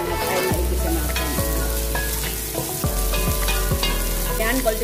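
Garlic and ginger sizzle and crackle steadily in hot cooking oil, with repeated thuds and scrapes of a spatula stirring the pan, loud and close throughout.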